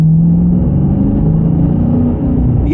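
A 2023 Dodge Challenger SRT 392 Scat Pack V8 accelerates from inside the cabin, a loud, deep engine drone rising steadily in pitch over a low rumble, no talking.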